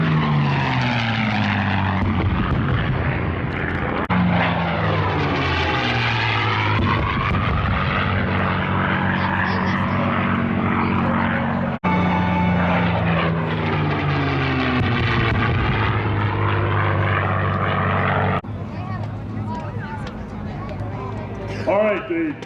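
P-51 Mustang and Corsair warbirds flying at the Warbirds Over Monroe air show, loud, continuous propeller engine drone with rising and falling pitch as the planes pass, under a talking announcer throughout.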